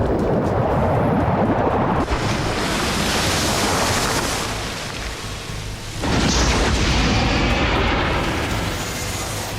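A submarine missile launch: a loud, sustained roaring rush of broadband noise with a swelling surge partway through, like water and exhaust bursting outward, continuous and close with no voices.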